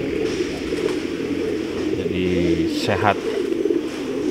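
Young pigeons cooing at a loft, soft low coos rising and falling over steady background hiss, with someone speaking briefly nearby.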